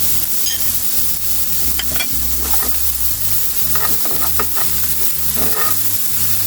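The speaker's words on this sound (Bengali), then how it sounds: "এ পর্যায়ে আমি দিব গাজর কুচি, চিচিঙ্গা কুচি, একসাথে দিয়ে নেড়ে চেড়ে নিব" Chopped carrot and snake gourd fry in a pan while being stirred. A loud, continuous sizzle runs under repeated scraping and stirring strokes close by, with no talking.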